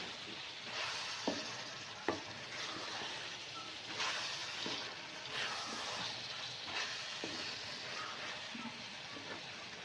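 Potatoes and bitter gourd stirred in a pan over a constant frying sizzle, with periodic scrapes and a couple of sharper knocks of the spoon against the pan, close but fairly quiet, without speech.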